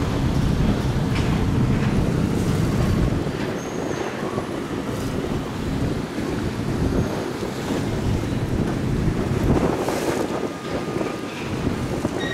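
Strong wind gusting at a container port as a tug assists a container ship berthing before rain, a constant roaring rush buffeting the microphone with a low water and engine rumble underneath.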